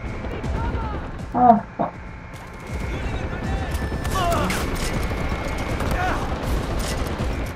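Gunfire in the video game Far Cry 4, with scattered shots and bursts over steady outdoor game ambience, joined by a voice speaking near the start.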